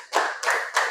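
Three quick, crisp hand claps in a counting game, close and evenly spaced within a second, with nothing else heard.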